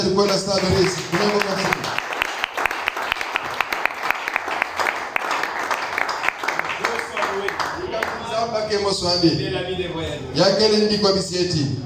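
Church congregation applauding during a Sunday service, rhythmic clapping sustained under a loud voice speaking, with singing-like vocal sounds rising near the end.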